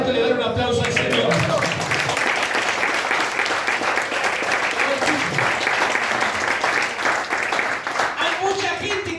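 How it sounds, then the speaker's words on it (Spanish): A church congregation applauding, dense sustained clapping filling the room from start to finish, loud and close, with voices calling out faintly beneath it. "¿Cuánto le dan un aplauso al Señor?"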